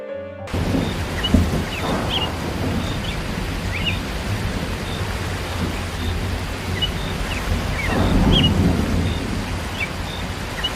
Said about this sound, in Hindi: आज के रात ही ये तूफान और बारिश शुरू हो गई